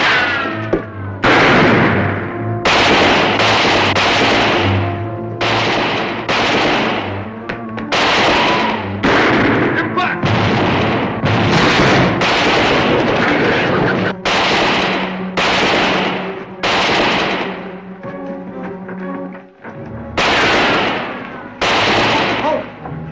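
Rapid gunfire erupts in a western shootout, loud overlapping shots and volleys firing almost continuously with only brief gaps, close and dominating throughout.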